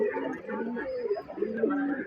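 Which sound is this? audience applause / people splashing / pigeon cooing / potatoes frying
pigeon cooing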